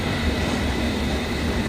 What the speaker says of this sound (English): But for now, we will let both these trains leave.